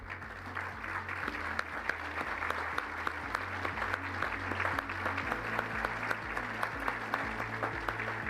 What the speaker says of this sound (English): just stand so we can give you a clap